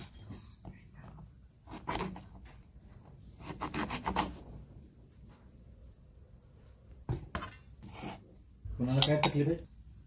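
A knife cutting eggplants into quarters on a board, with irregular bursts of slicing and scraping, a few sharp clicks and quiet pauses between cuts.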